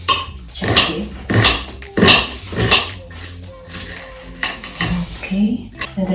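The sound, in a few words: knife chopping vegetables into small pieces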